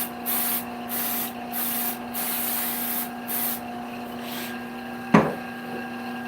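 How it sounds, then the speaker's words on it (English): Satellite City glue accelerator hisses from a spray can onto a woodturning piece in several short, close puffs, followed by a single sharp knock near the end. "I'm going to spray this, cure that glue, my Satellite City accelerator."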